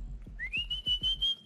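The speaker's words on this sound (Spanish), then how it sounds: "tenés buen silbido" A rising then sustained whistle with a steady tone, punctuated by several low rhythmic thumps, with no talking, whistled by a person to call a dog.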